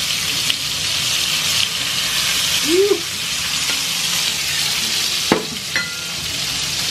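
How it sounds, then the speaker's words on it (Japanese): Pork or beef sizzling steadily in a hot frying pan for a Cuban sandwich, a continuous crackling hiss with a few brief clinks and scrapes of utensils; no talking. "肉がね、もうちょい焼き上がるまで待ちたいと思います"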